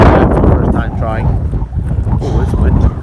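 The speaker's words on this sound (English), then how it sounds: "Windy. Ooh, windy." Steady outdoor wind rushes over the microphone at a baseball game in cold weather, a loud broadband buffeting that runs through the whole stretch with faint voices beneath it.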